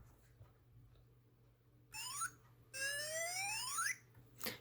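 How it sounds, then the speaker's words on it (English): A Spektrum 2-in-1 RC receiver from an ECX 1/18 Ruckus chirps on power-up with bright sweeping whistle-like tones, two longer rising and falling bursts and a short final chirp, fairly faint over a low background hum, with no one talking. "with these Spectrum 2-in-1 receivers, when you turn them on, it makes a pretty unique noise"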